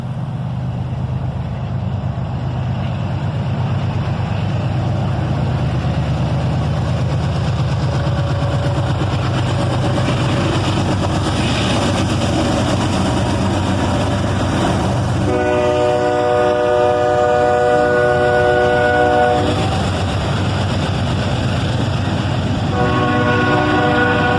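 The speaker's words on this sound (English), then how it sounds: "An ES-40DC and an old Dash 8 in the YN2 paint scheme" A northbound freight train led by an ES-40DC and an old Dash 8 locomotive in YN2 paint rolls steadily past at close range, a continuous heavy rumble of wheels and cars, with a horn blast sounding near the middle and again at the end.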